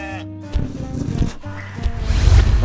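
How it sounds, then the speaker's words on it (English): Sheep bleat on a farm among other livestock, a few short wavering calls over a busy background of rustling and soft noise, fairly close and moderately loud. "And the sheep having their own space."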